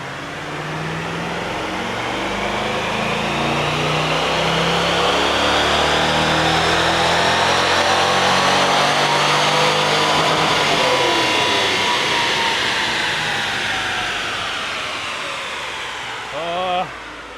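A C5 Corvette engine revs hard on a dyno, a loud sustained mechanical roar that climbs in pitch over about fifteen seconds, then eases off with a brief burst near the end.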